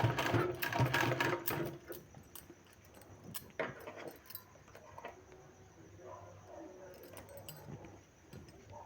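A sewing machine stitches a sleeve design in quiet, close bursts of fast clatter, stopping and starting with soft handling noises between runs.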